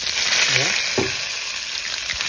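Pork frying in its own rendered fat in a pan, a constant dense sizzle and crackle held close and fairly loud, with a faint scraping stir and no talking.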